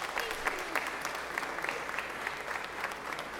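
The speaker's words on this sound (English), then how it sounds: "give them a round of applause" Georgia Senate members give a steady round of applause for a visiting group of Girl Scouts from Forsyth County, a dense, even clatter of many hands heard from some distance across the chamber.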